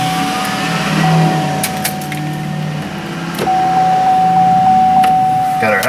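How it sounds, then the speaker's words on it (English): A GMC Acadia's headlight warning chime sounds as a steady repeating electronic tone inside the vehicle, running through most of the clip beneath people talking and some background rattles. "Got our headlight dinger."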